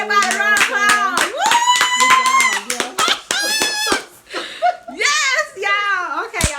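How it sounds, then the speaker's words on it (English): Several people clap in quick, sharp bursts between excited voices and harmonic, sung-out cheering, close and loud throughout, with laughter-like vocal sounds mixed in. "Give everybody a round of applause."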